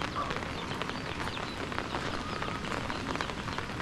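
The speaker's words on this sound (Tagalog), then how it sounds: "Muulan, mga ulan." Steady rain falls outdoors on a rural lot, a dense, even hiss of drops with scattered sharper patters on surfaces, continuous and fairly quiet with no voices.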